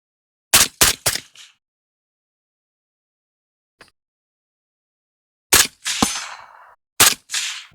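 PSA JAKL rifle fired unsuppressed at a dummy target outdoors: three sharp, loud reports in quick succession, then a long quiet gap with a faint tick, followed by two more loud cracks with ringing echo tails.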